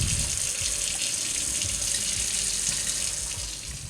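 Tap water runs steadily into a sink while lentils (dal) are rinsed, a close, continuous hiss and splash that fades slightly at the end.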